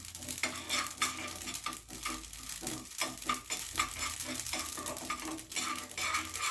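Spice powder for Chettinad-style small onion thokku is roasted over medium heat with a spoon scraping the pan, producing a busy, rhythmic stirring and scratching over a low dry sizzle.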